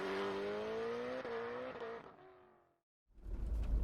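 A Mitsubishi Montero truck pulls away over mixed sand and grit on the Mojave Road, its engine droning steadily and climbing slightly in pitch before fading out, followed by a short silence and then a low, close rumble.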